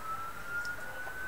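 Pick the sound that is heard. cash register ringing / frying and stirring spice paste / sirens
sirens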